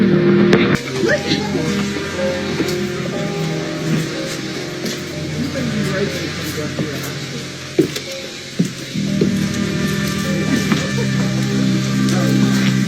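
Rain falls steadily during Hurricane Helene in the Asheville and Hendersonville area of North Carolina, a soft patter with scattered drips beneath a low mechanical hum and occasional clicks.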